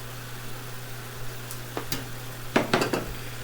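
Chopped large onion cooking for chili in pans, a soft steady sizzle with a low hum beneath, then a cluster of clinks and scrapes from a utensil against the pan near the end.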